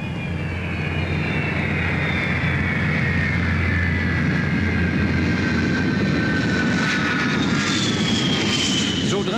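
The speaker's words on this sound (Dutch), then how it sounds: "Dit is een van de meer dan 100 vliegtuigen die elke dag op Schiphol hun wielen tegen de grond drukken." A jet airliner landing at Schiphol roars steadily at close range, its whining engine tones gliding downward as it passes, with a broad rushing rumble beneath.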